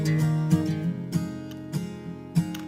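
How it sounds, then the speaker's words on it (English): Two acoustic guitar tracks, separate performances panned hard left and right, strum in a steady rhythm with regular accented hits about every half second over ringing sustained chords, heard alone at a modest level. "So that's the two acoustics. They sound like this."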